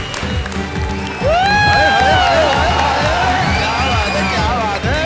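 A studio audience on a Hindi comedy show breaks into sustained applause and cheering, loud and dense, with whoops rising over the clapping.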